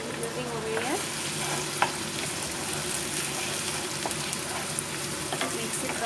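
Ginger garlic onion paste frying over a medium flame makes a continuous close sizzle, with steady stirring scrapes and an occasional clink of the spoon on the pan.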